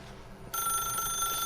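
A telephone in The Stanley Parable game starts ringing abruptly partway through, a bright sustained electronic trill that holds steady and loud until the end, with no talking.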